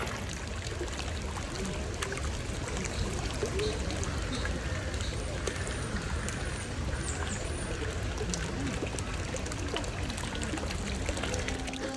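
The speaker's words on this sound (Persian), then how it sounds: "بیاین با هم دیگه چند ثانیه به صدای آرامش بخش آب گوش بدیم" Water flows steadily in a Persian garden, a continuous soft rushing and trickling at even volume throughout, fairly faint and close with no talking.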